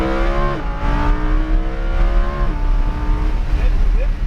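A race car on a speedway track roars as the throttle opens, its engine rising and shifting in steady harmonic sweeps, close and loud, with an instructor's voice coming over an intercom.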